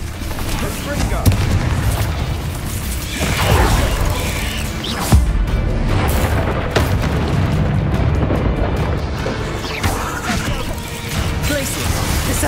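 Spell blasts, including a Confringo, crash through a Hogwarts Legacy battle as loud booming explosions and crackling magical impacts, one after another over a dense wash of game noise, with a voice calling out among them.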